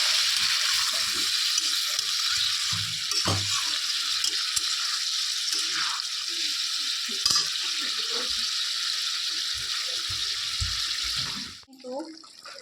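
Paneer curry sizzling in a pan after a little water is added, a steady loud hiss of frying throughout with occasional soft clinks and stirring sounds, and speech in the background.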